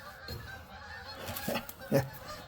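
Geese honking as they fly south over a parked 1966 Karmann Ghia, a few faint distant calls at scattered moments, under wind and outdoor background noise.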